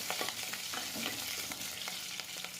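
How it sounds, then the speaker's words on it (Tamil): Chopped large onion and curry leaves fry in hot oil for sorakkai sambar, giving a steady, fairly faint hissing sizzle with light stirring scrapes and no voices. "அதுக்கப்புறம் கருவேப்பிலையும் ஆட் பண்ணிவிட்டு லைட்டாக பரட்டிக்கலாம்"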